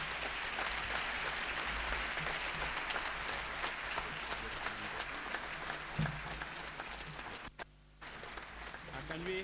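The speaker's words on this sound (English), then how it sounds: "While they walk out, please give them a round of applause," Audience at a health sector achievements ceremony gives sustained applause for postgraduate training beneficiaries, a dense, even clatter that drops out briefly near the end and then resumes.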